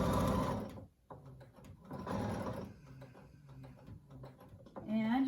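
A sewing machine stitches a fabric face mask in two bursts, stopping briefly around a needle-down pivot, with a voice talking over the running motor and a short pause between runs.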